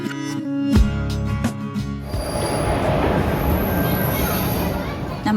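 Train running on its rails, a loud, steady rumbling roar with rattling wheels heard from close by, following a short burst of music and noise at the start.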